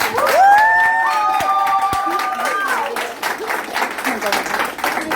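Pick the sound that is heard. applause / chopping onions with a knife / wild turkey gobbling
applause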